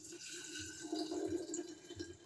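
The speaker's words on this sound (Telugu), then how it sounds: "ఇప్పుడు వాటర్ యాడ్ చేస్తున్నాను" Water being poured into a freshly ground juice paste for a homemade energy drink: a soft, gurgling trickle of liquid that swells in the middle, fairly quiet and with no talking.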